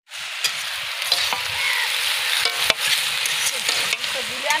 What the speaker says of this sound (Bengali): এসে চিংড়ি ভাজছে এখন, মানে পেঁয়াজ আর রসুন দিয়ে চিংড়ি দিয়ে ভাজা হচ্ছে